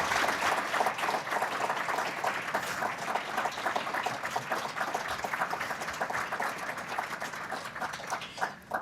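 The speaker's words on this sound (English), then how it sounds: "I'm going to make you do another round of applause for these talented, committed individuals." An awards ceremony audience gives a round of applause, a soft, fairly distant patter of many hands that carries on for several seconds.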